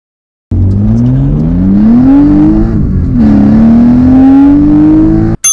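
A BMW E30 fitted with an S52 engine revs hard alone, its tone climbing steadily, dipping briefly, then rising again before cutting off abruptly.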